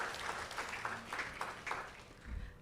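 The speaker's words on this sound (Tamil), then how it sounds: "மீண்டும் ஒரு பலத்த கரகோஷம்." Audience applause after a Bharatanatyam dance performance in Vancouver, Canada, a moderate wash of clapping that swells in several waves across the short stretch and never fully drops out.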